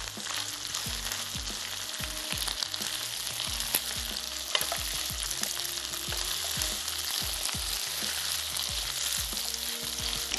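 Beef stir-frying in sauce in a hot pan, a steady loud sizzle with repeated rhythmic scraping and clanking of a spatula stirring throughout.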